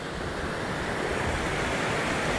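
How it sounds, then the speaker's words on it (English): Small waterfall beside the Snake River near Buhl, Idaho, a constant broadband rush of falling water, close and loud with no talk. "I don't know if this can count as a waterfall"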